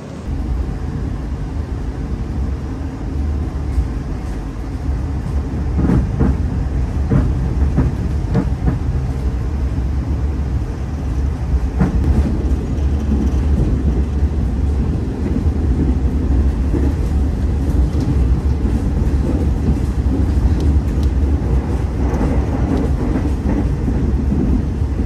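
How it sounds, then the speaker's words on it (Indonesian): Tegal Bahari passenger train, a new-generation trainset, rolling along the rails between Jakarta and Cirebon, heard from inside as a steady loud rumble with faint rhythmic clatter throughout, no talking. "perjalanan dengan kereta api Tegal Bahari ini"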